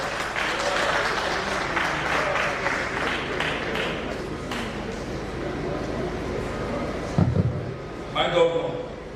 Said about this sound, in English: They want to clap for it.